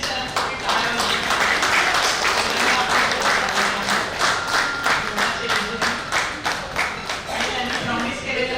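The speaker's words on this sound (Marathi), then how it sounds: "चिन्मय सरांसाठी टाळ्या वाजवा" An audience at a birthday gathering applauds for Chinmay sir, a dense steady round of clapping from many hands that holds for several seconds without talk.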